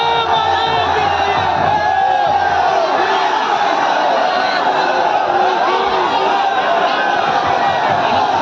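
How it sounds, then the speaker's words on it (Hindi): A huge crowd of devotees at the Chalda Mahasu deity procession in Jaunsar Bawar chants and shouts in unison, a loud, continuous roar of many voices that stays constant throughout. "छत्रधारी चालदा मासू महाराज के जय घोष के साथ आस्था के साथ जन सैलाब उमड़ पड़ गया"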